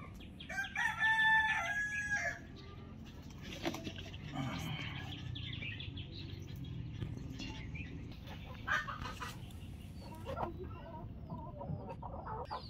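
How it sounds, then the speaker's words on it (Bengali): Faint clucking from broody hens sitting in a poultry coop on a small farm, with a drawn-out crowing call near the start and soft scattered bird sounds after. "এখানে আমাদের আরও তিনটা মুরগি কুচে বসানো আছে।"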